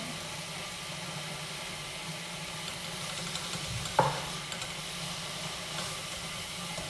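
Carrots and red peppers sautéing in a pot for a carrot vegetable soup, a steady low sizzle and hiss with one brief stir clink midway, moderately quiet and with no talking.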